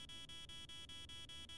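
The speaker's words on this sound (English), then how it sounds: "you mean the beep of the EMF5" Electronic EMF 5 reader in the horror video game Demonologist, sounding as a rapid, steady, pulsing buzzy beep that repeats evenly, fairly faint and alone.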